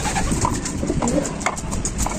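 Racing pigeons coo softly in low, throaty bursts amid a busy, noisy background of rustling and fluttering.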